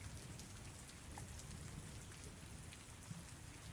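Steady rain falls throughout a tabletop fantasy roleplaying session, a constant soft hiss of drops with a low rumbling wash underneath and no voices.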